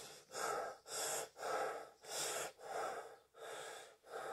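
A person breathing deeply in a slow, even rhythm, about seven long, close, soft breaths in a row with short pauses between them and no talking.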